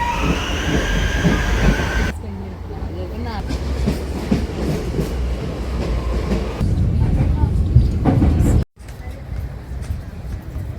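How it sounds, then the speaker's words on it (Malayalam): A metro train runs through Melbourne city, its steady rumble and rail noise loud and close throughout, with a brief dropout near the end before the rolling sound resumes. "മെട്രോയിലാണ് ഞങ്ങൾ പോകുന്നത് കേട്ടോ"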